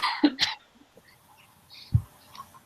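A person running a fever gives two quick harsh coughs close by, followed by quiet pauses and a soft low throat sound.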